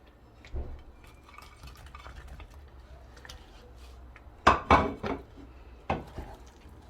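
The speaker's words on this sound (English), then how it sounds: "I stir it to infuse the flavors to it" Fried soya chunks are stirred into a simmering spinach stew gravy, with faint bubbling and light utensil sounds at first, then several loud close clanks and scrapes of a spoon against the pot near the end.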